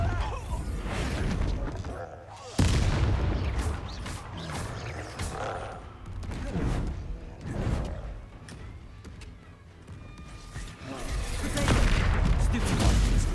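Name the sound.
Bombarda blasting spell in video game Hogwarts Legacy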